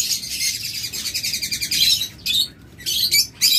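Many caged birds at a bird seller's chirp and tweet close by in quick, overlapping bursts of high calls, with short pauses between flurries.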